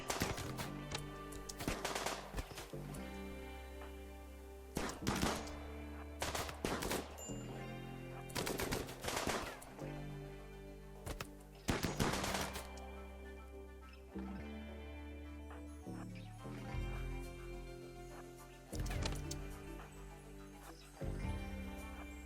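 Rapid bursts of automatic gunfire in the Rimworld video game (Royalty expansion, tribal start), loud repeated volleys and crackling shots spread across the whole stretch over a layered game soundscape, with no talking.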